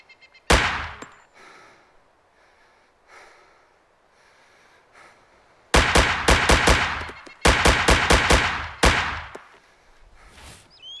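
Gunfire in the DayZ mod Overpoch: a lone sharp shot, then two loud bursts of rapid automatic fire with evenly spaced cracks, close by, with quiet gaps between.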